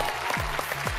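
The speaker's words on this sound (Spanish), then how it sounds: "¡Otro aplauso!" A studio audience applauds on a Chilean TV singing competition after a duet by two teenage girls, a brief steady wash of clapping with a host's voice and music heard over it.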